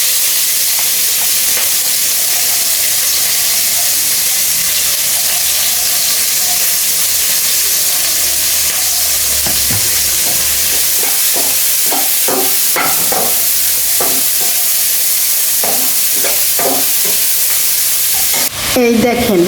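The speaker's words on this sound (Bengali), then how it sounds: "এখন এই যে পটল আর হচ্ছে বেগুন ভেজে নিতেছি।" Pointed gourd and eggplant fry with spices in a pan, a loud, steady hiss of hot oil lasting throughout, with clusters of stirring scrapes and clatter in the second half.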